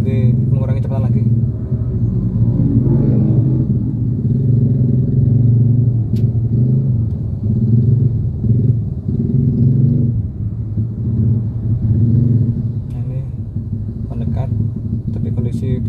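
A car slows under dynamic radar cruise control, its low engine and road rumble steady and easing, while someone talks over it inside the cabin.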